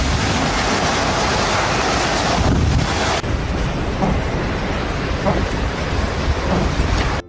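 Large waves pounding the coast of Taitung, Taiwan, during Typhoon Podul, a loud continuous surf roar mixed with heavy wind buffeting the microphone.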